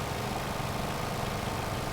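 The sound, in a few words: boat engine running at high speed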